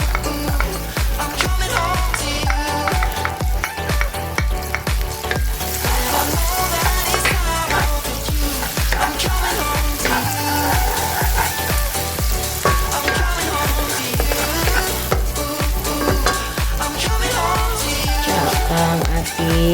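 Onion frying in butter for a hotdog dish, a steady dense sizzle that runs continuously and loudly throughout with no talking.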